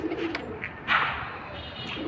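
A pigeon coos softly just after landing from a long timed flight, a brief low call followed by a short flutter against faint outdoor background.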